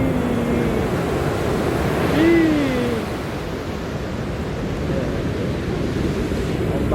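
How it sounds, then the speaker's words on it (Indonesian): Ocean surf rolls steadily onto a beach, a continuous broad wash of waves with wind rumbling across the microphone, and faint short bird-like calls drifting over the roar. "dia bergulung tuh, lihat ombak."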